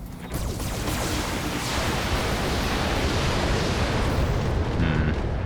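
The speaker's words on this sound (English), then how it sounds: "Not a great salvo." A weapon salvo fired in BattleTech, heard as a continuous loud roaring wash of missile launches and impacts, dense and unbroken for several seconds with no clear separate shots.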